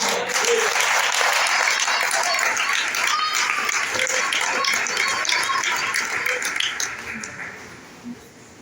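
A church congregation at a Brazilian prophetic worship service claps loudly and continuously, a thick roar of applause with voices mixed in that slowly thins and fades toward the end.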